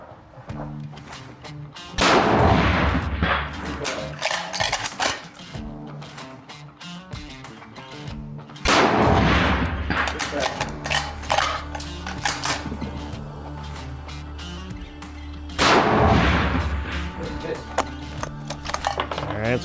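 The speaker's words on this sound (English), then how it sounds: "First up is the Ruger American Gen 2." Three loud rifle shots from a Ruger American Gen 2 fired at a steel plate 300 yards away, spaced several seconds apart, each a sharp crack followed by a lingering rumble, with quiet outdoor background between.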